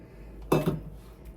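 A metal utensil strikes a large pan a couple of times while apricots and pineapple are being mixed, making short clanks and scrapes against a quiet kitchen background.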